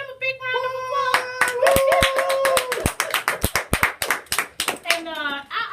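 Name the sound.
studio audience applause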